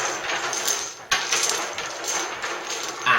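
Dominoes shuffled across a table clatter continuously in a dense rattle of small hard tiles clicking together, steady and close throughout.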